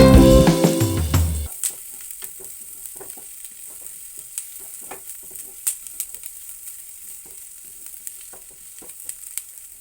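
Ginger and garlic fry with onions in a pan, a loud sizzle at first that quickly drops to a soft crackle with scattered pops and occasional stirring clicks.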